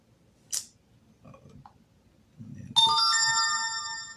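A phone plays a short chiming ringtone-like tone, a clear bright electronic sound rising up after some faint rustling and clicks, fairly close and sustained for over a second.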